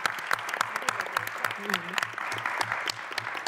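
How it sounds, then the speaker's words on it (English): A crowd at an awards launch event claps steadily and warmly throughout, with a brief voice heard over the applause. "A big hand of applause once again."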